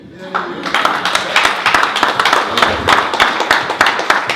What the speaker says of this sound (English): so they finna clap for you